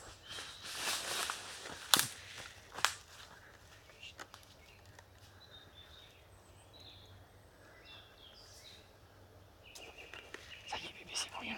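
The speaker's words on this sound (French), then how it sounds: "c'est quand même très agréable d'entendre les oiseaux chanter comme ça" Birds sing in the evening at an arboretum, with soft, scattered chirps spread through a quiet outdoor backdrop, a few sharp rustles and footstep-like knocks now and then.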